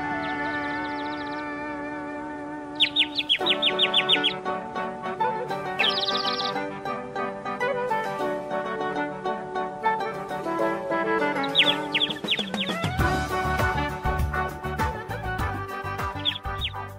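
A small bird in an animated cartoon chirps in short bright bursts of rapid tweets, scattered over a busy musical score that fills the background throughout.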